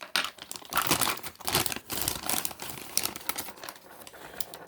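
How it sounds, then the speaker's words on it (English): A plastic bag holding a G.I. Joe Cobra Hisstank turret is cut open, giving close, quiet bursts of crinkling and tearing plastic in irregular snips and rustles, with no talking. "cut away from you when you're cutting"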